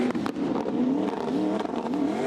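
A drift car in the FIA Motorsport Games drifting final revs hard, its engine note surging and dipping repeatedly as it pitches into a slide, with scrapes and crackles mixed in.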